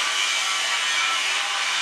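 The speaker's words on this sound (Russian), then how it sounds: "У соседей ремонт." Renovation work at a neighbouring property in a Samarkand guest house, where a saw rasps through material in a steady, continuous stroke, loud and close with no pauses and no talking.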